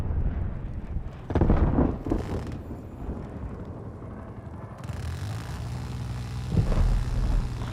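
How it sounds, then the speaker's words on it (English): Chopper gunner firing explosive rounds in a console shooter game: booming blasts at intervals over a low continuous drone, with heavier bursts near the start and again near the end, no talk over them. "Hostile chopper gunner operating"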